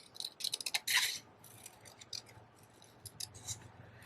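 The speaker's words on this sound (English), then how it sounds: "By just going around and moving your cardstock instead of just chop, chop, chop with your scissors." Scissors cutting cardstock up close: quick clusters of crisp snips, then sparser, gentler cuts as the paper is turned, quiet and crisp with no talking.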